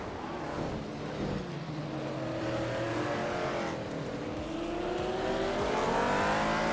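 Engines of classic open-wheel race cars, including a 1962 Porsche 804, rising together at the start of a racing video game, a loud continuous snarl with climbing revs and no talk.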